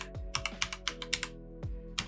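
Keystrokes on a computer keyboard as a web address is typed into a browser address bar, a quick uneven run of a dozen or so close, crisp clicks with short pauses, no voices.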